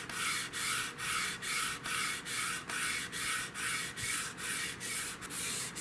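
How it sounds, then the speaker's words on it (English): Sandpaper scrubs the old finish off the wooden stock of a Browning Superposed shotgun in steady back-and-forth strokes, an even rhythmic rasping of about two strokes per second, close up and alone. "I have decided to sand off this finish instead of strip it chemically."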